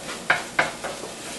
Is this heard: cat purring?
no